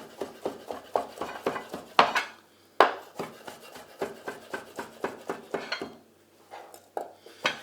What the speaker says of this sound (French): Là, je vais prendre mon filet de truite fumé. Lui est déjà cuit, donc je ne fais que le hacher.